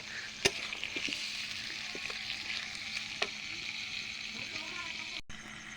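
Desi chicken curry being stir-fried for a rural night-time picnic, a soft continuous sizzle with occasional sharp scrapes and taps of a spatula against the pan, heard close under ambient noise.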